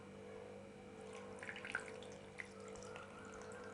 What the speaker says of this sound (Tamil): அதனால் நம்ம நார்மல் வாட்டர் ஊற்றி வாஷ் பண்ணிக்கலாம்.